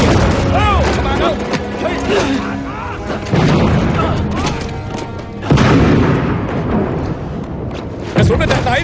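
Heavy booms and thuds of shelling with bursts of gunfire in a wartime battle scene set in 1945, loud and recurring every few seconds, with shouting voices over the explosions.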